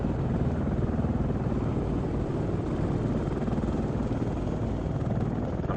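An AH-64D Apache helicopter in the game ARMA 3 fills the air with a steady, loud rotor chop and turbine roar, constant and close throughout.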